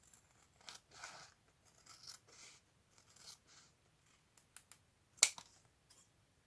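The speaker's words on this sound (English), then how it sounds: "I'm not sure if I'm able to cut it straight." Scissors snipping through material for a new journal cover made from a book, quiet and close, in short scattered cuts with a sharper snip near the end, no talk.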